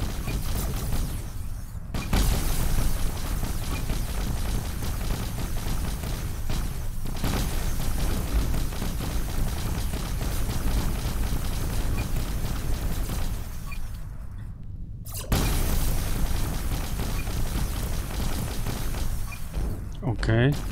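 Sustained dense barrage of gunfire pounding a player's spaceship in Interstellar Rift, a loud continuous roar with rumbling impacts, briefly dropping out twice.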